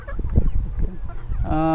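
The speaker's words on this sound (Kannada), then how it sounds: "ಸುಮಾರಿಗೆ ನಮ್ಮ ಹತ್ರ ಒಂದು ಸಾವಿರ ಕೋಳಿ ತನಕ ಇದ್ದಾವೆ" Native country chickens on a large poultry farm, giving close, loud clucks and squawks, ending in a sustained crowing call.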